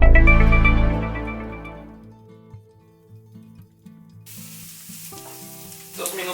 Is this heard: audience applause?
no